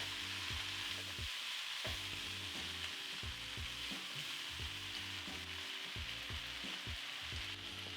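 Potatoes, cauliflower and peas (aloo gobi) sizzle softly in a pan as they finish cooking, a faint, even hiss over a rhythmic low pulsing background.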